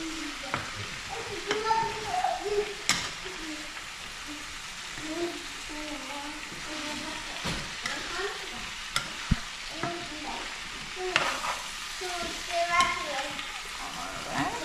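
Ackee seasoned with black pepper is stirred in a frying pan, a faint sizzle with occasional scrapes and clinks beneath a person's talk and children's voices in the background.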